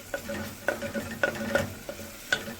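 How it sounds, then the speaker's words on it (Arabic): Garlic frying in a spoonful of ghee sizzles steadily while a spoon stirs and scrapes the pan in several distinct clinks and scrapes, close and clear, with no talking. "وهنقلب بقى لغايه لما تحمر معانا"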